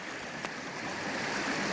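A mountain stream flows nearby beside a yellow birch, a faint, steady rush of water with a soft brief tick partway through.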